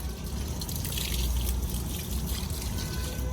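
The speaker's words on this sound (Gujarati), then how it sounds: "પ્લાન્ટને પાણી આપે છે ને" A child pours water onto a potted plant, producing a close, steady trickle and splash of liquid running into soil for a few seconds.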